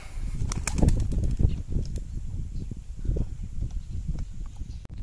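A released homing pigeon beats its wings in a rapid burst of flapping, loudest at the start, over strong wind buffeting nearby.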